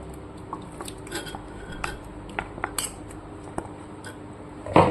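Food being stirred in a pot during Bengali home cooking, just before ginger-garlic paste goes in for a pressure cooker dish: scattered light clinks and scrapes of a utensil against the pot, moderately near, with a louder clatter at the end.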